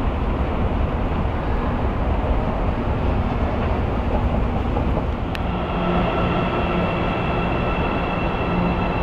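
A driverless São Paulo metro train sits at Pinheiros station, more than 30 metres underground, with a continuous loud rumble and hum and a brief sharp click partway through, and no voices.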